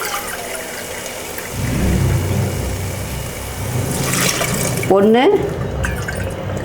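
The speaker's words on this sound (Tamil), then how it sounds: "அடுத்தது வந்து அரிசிக்கு தேவையான தண்ணி ஊற்றிக்கலாங்க" Water pours from a cup into a pot of basmati rice for tomato rice, a steady trickling fill with a brief gurgle near the end, while a woman counts aloud.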